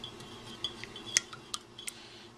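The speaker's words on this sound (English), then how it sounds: "So you whisk it until it's all yellow like that." Beaten eggs whisked in a mixing bowl for a home economics project, heard as a few sparse, light metallic clinks and taps against the bowl, quiet and close.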